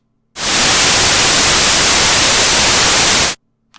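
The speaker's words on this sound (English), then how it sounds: "This is Gaussian white noise." Gaussian white noise plays loudly and evenly for about three seconds, a flat full-band hiss that switches on and off abruptly, with silence before and after.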